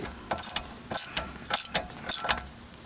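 Ratchet tightening a brake caliper bolt on a 1999 Dodge Dakota, several short bursts of fine clicking, close and quiet, with small metallic ticks between strokes.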